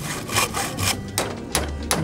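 A handsaw cuts through wood in quick back-and-forth strokes, a rasping rhythm heard up close with no voices.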